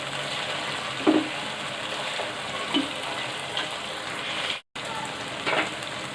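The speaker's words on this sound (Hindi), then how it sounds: "इसको मज़ीद थोड़ा सा भून लेंगे।" Garlic and crushed coriander fry in a pan for chicken biryani, giving a steady soft sizzle with a few brief stirring clatters and a moment of silence partway through.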